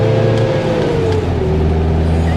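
Engine of a 1989 Nissan Hardbody Z24 pickup truck on the road, a steady loud drone that rises and falls as the manual gearbox is shifted, close and continuous with no talking.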